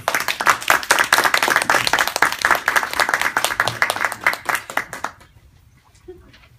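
Audience applause at a Toastmasters public-speaking club meeting: dense, sustained clapping from a roomful of people for about five seconds, then tapering off abruptly into near quiet with a few stray claps.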